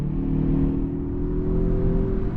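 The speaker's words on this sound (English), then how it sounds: "Ooh, some turbo noise is coming out of the hood." Mazda CX-30 Turbo engine accelerating, a steady droning whir of turbo and engine noise heard from inside the cabin, even and continuous throughout.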